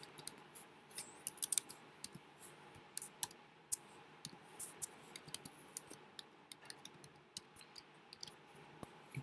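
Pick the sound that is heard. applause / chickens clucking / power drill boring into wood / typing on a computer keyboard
typing on a computer keyboard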